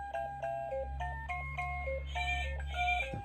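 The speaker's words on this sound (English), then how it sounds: "Damn lamb noises." An electronic toy plays a beeping, bleating melody of repeated short electronic tones over a steady low hum, with no one talking.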